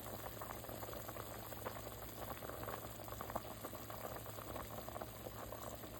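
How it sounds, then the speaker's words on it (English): A pot of white Great Northern beans and a big ham bone bubbles on low to medium-low heat, giving a faint, steady simmering burble with no voices. "let me check on my white beans with the big ham bone. It's cooking."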